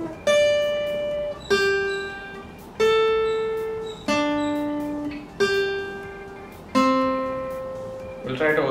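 An electric guitar plays a slow minor improvisation built on double stops, with six evenly spaced two-note strikes, each left to ring and fade, close and clear, with no voices.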